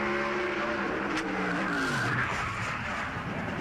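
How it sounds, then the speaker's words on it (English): A NASCAR stock car at the 2003 Southern 500 qualifying gets loose and skids, tires squealing as the engine note drops away, heard from a distance over a broad track roar. "I think the sound that you heard was after the car got loose and he tried to correct, like Larry said, you hear it bottom out again and it came around"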